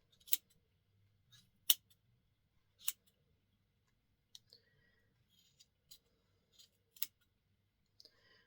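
Scissors make a handful of short, crisp snips, spaced a second or so apart, trimming yarn into a pom-pom, close up in a quiet room with faint clicks between the cuts.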